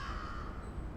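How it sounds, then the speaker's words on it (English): Crows cawing harshly as they take off, with a brief, loud, raspy squawk close by against the background noise. "With a flap and a squawk, the crows flew away."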